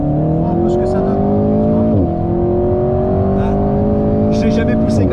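An Alpine A110 engine revs hard from inside the car, its pitch climbing steadily. The pitch dips briefly at a gear change, then rises again. Voices talk faintly over the loud, constant engine drone.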